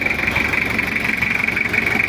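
Toyota Kijang diesel engine idling up close after an engine-down repair, a steady rough rumble with an even pulsing rhythm and a bright whine layered over it.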